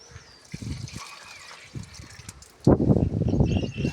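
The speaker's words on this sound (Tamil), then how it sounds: "தண்ணி ஊற்றினால வரமாட்டேங்குது." Water poured onto a white hibiscus plant in a garden: soft trickling and dribbling at first, then a louder, splashing gush of liquid in the second half.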